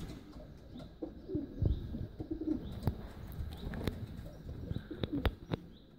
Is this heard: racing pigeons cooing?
yes